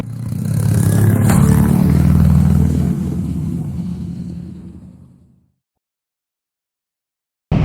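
A Kawasaki Vulcan S motorcycle rumbles loudly and close as it pulls away, its deep engine drone fading steadily into silence after about five seconds, followed by a brief thump at the very end.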